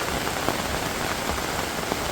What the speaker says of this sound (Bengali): ছাদে যায় আপনাদের বৃষ্টিটা উপভোগ করেন